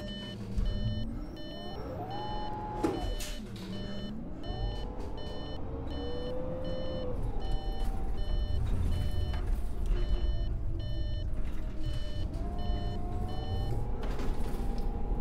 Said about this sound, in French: ce bruit clignotant, je pense que c'est un peu agaçant au bout d'un moment quand même